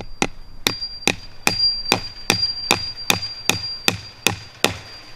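Fence staples are hammered into a wooden line post on a farm wire fence, twelve sharp, evenly spaced blows ringing out close and loud with no talk.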